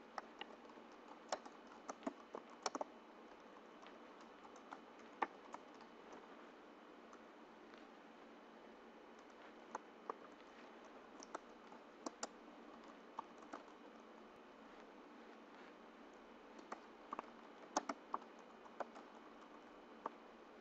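Fingers type on a computer keyboard, with light irregular key clicks tapping steadily for about twenty seconds, quiet and close with no talking.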